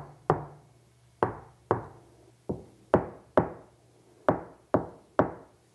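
Nine knuckle knocks on a sound-deadened door of a modern 4WD ute at uneven intervals, each a short, dull, damped thud close by with no talking.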